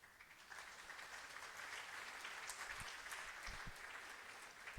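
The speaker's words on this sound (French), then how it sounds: "Je voudrais qu'on puisse applaudir pour cette dame." Audience applause for the first lady at a foundation event in DRC, a steady wash of clapping that holds for several seconds, moderately loud and fairly distant, with no talking over it.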